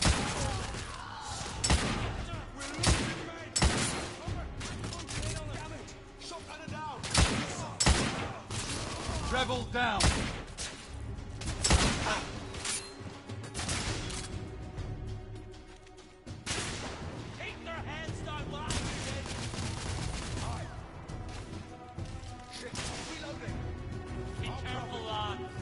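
Repeated bursts of gunfire in the steampunk shooter video game The Order 1886, sharp cracks and rapid volleys loud against a steady game soundscape, with someone talking over much of it.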